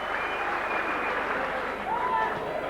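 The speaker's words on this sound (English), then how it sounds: "He applauds the crowd." Crowd applause at a 1993 St Helens versus Halifax rugby league playoff match, a steady broad clapping wash from the stands with commentary voices over it.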